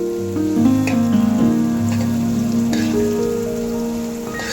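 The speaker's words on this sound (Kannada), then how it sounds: "ಇವಾಗ ಈರುಳ್ಳಿ ಜೊತೆ ಮೆಣಸಿನ್ಕಾಯಿ ಪೇಸ್ಟ್ ಹಾಕ್ಕೊಂಡಿದ್ದೀನಿ. ಚೆನ್ನಾಗಿ ಫ್ರೈ ಮಾಡ್ಕೋಬೇಕು." Onions and green chilli paste fry in a pan with a steady, dense crackle and hiss that continues throughout, with a faint tonal hum underneath.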